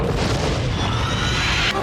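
A bomb blast from the film Tremors makes a loud, heavy boom. It fills the moment with a dense roar and rumbling debris, then ends in a sharp crack near the close, with no speech over it.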